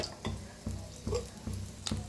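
Cumin seeds sizzling in hot oil in a hot wok (kadhai): a quiet, steady frying hiss broken by soft, regular scraping taps roughly every half second, with no talk.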